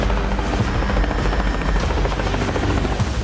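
A heavy-lift Mi-26 helicopter roars steadily and loudly throughout, its rotor and engine noise forming a dense, continuous drone with a faint rhythmic thump and no voices.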